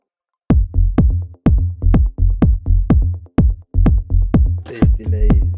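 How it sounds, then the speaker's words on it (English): Moog DFAM bass hits run through delay, vinyl-style distortion and EQ: loud, punchy low thumps in a steady repeating pattern, each trailed by quicker, softer echoed repeats, with a brief noisy crackle near the end. "Bit of delay, bit of vinyl distortion, an EQ to cut the lows."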